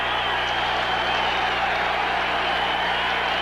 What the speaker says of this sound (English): Partisan crowd exhorting their favorites to get to Dan Fouts.